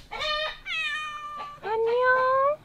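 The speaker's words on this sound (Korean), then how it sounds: "고양이도 있네?" A cat at a rural village home with chickens meows three times in quick succession, close and clear, each call drawn out and rising; no other sounds intrude.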